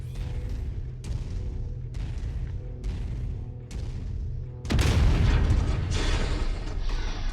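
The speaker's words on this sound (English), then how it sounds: "That cannon, that LBX cannon, well, it's no sloucher when it comes to pain." LBX cannon on an Urban Mech in a video game, firing a regular series of heavy booming shots about once a second, then a louder, denser burst of blasts and rumble.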